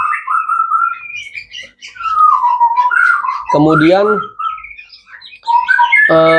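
A young white-rumped shama (murai batu) sings loud, close whistled phrases that slide up and down and come in a continuous run, with a voice cutting in briefly twice.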